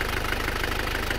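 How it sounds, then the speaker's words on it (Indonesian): A car engine just back from an overhaul idles steadily at close range, its low pulsing carrying a faint uneven knock through the whole short stretch, with no voices over it. "saya merasakan mesin ini ada ketimpangan suaranya, jadi tidak halus"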